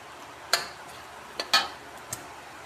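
Mung beans are sautéed in a pan with a few sharp scraping clacks of a utensil against the pan. Between them the pan gives only a faint background hiss.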